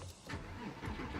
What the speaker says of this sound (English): step number 1 is to just start the car as normal